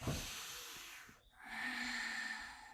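Deep yoga breathing during a full-body session: a long audible breath, a brief pause, then another slow, airy breath, soft and close with no talking.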